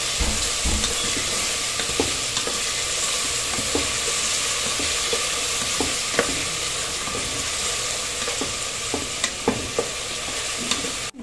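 Sliced onion, curry leaves and green chillies fry in a pan for a home-style dal khichdi, giving a steady loud sizzle with occasional scrapes of a spoon stirring through it, no voices.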